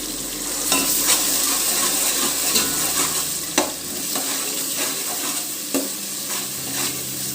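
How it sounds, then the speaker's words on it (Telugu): Vegetables with ginger-garlic paste being stirred in hot oil for a veg biryani, a steady close sizzle broken by repeated scraping strokes of a spoon across the pan, no voices. "ఒకసారి కలిపేసేసుకుందాం."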